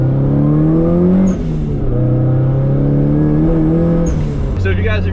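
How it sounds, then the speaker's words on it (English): Turbocharged, fairly stock Nissan SR20 running about 10 to 12 PSI, roughly 250 to 260 horsepower, revs up loud and close, its steady drone rising in pitch, easing, then climbing again. "this is a pretty stock SR20 with about 10 to 12 PSI, so it probably makes like 250 to 260 horsepower"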